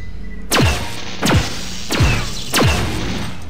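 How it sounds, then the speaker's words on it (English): Four booming explosions in the video game System Shock 2, each a heavy thump with a sweeping tail, spaced roughly half a second to a second apart over steady background ambience, with no voices. "Boom, baby. Look at those explosions."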